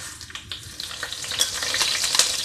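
Mustard seeds hit hot coconut oil in a pan for a Kerala-style seer fish dish, setting off a steady sizzle with scattered pops and crackles that grow busier and louder near the end.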